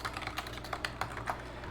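Fingers type notes on a computer keyboard in quick, uneven bursts of soft clicks, close and fairly quiet over a low background hum, with no talking.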